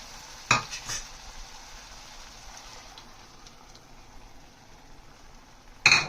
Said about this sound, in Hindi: उसके बाद हम स्लोली इसमें अंडा डाल रहे हैं।